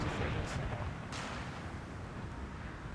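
Artillery in the video game Empire Total War fires in a few deep booming blasts over a low rumbling battlefield din, distant and heavy, with no talk.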